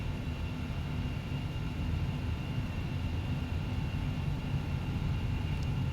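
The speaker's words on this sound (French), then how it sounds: "on met les gaz à fond" Embraer 135 twin jet engines run at full throttle during the takeoff roll, a steady, loud, unbroken roar heard from inside the cabin with a constant tonal whine sitting over the dense rumble.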